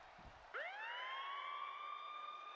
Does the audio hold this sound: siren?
yes